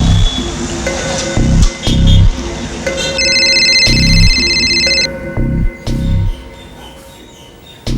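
A telephone rings with a steady electronic tone burst partway through, heard among loud low rumbling and clattering in an indoor scene of the Hindi TV crime drama Crime Patrol.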